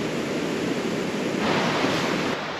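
Steady rushing of flowing water close by on a nature walk, a broad, loud, continuous wash with wind-like hiss on the microphone and no voices.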